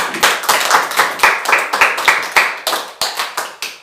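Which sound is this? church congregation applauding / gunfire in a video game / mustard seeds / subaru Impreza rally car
church congregation applauding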